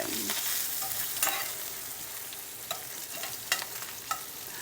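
Sausage and onion frying in a pan, a steady close sizzle with a few scattered scrapes and taps of a utensil stirring, no voices.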